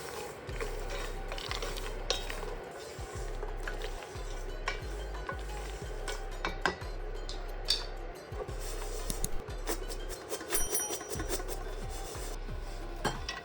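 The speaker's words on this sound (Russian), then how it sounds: "Под конец обжарки добавляем полстакана кунжута." Nuts and sesame seeds roasting in a pan, stirred steadily so the dry seeds rasp and rattle against the metal in a continuous close scraping rhythm, no talking.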